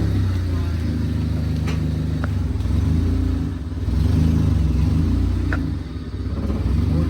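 Loud Honda car engine with VTEC, a steady rumbling drone that swells and surges in waves, with voices talking over it and a few faint clicks.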